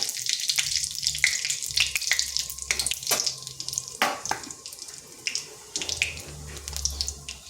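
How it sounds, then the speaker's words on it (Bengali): A bay leaf, dried red chilli and whole cumin seeds crackle in hot oil in a kadai, giving irregular sharp pops and spits over a soft sizzle with occasional low rumbles. "ফোড়নে দিয়ে দিচ্ছি একটা তেজপাতা আর শুকনো লঙ্কা, আর দিচ্ছি গোটা জিরে।"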